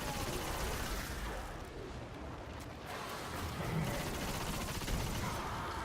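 The Necrochasm gun fires in a Destiny-style shooter during The Awakening daily heroic mission, a dense, continuous burst of fire and explosions that stays faint behind a steady wash of game noise.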